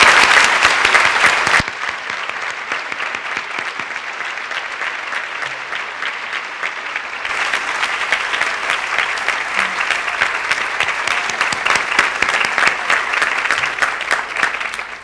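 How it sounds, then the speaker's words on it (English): Sustained audience applause honoring women at the 1991 Stovall Awards ceremony for the Commission on Women, a dense wash of many clapping hands that briefly dips then swells back up and continues steadily throughout. "Let's please give these exceptional women applause."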